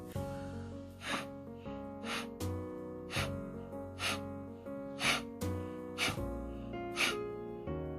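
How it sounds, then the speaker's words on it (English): Forceful exhalations in a yoga breathing exercise for respiratory relief, a steady rhythm of sharp, close breaths pushed out about once per second, over a sustained droning tone in the background. "Practice one forceful out breath every second."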